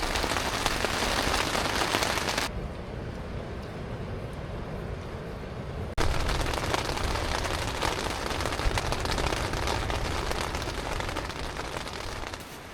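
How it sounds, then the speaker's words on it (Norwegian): Steady rain falling on a surface during a mountain hike in Børgefjell, a dense even patter throughout, softer for a few seconds in the middle before returning at full strength, with no voices. "Det er veldig deilig med litt regn også."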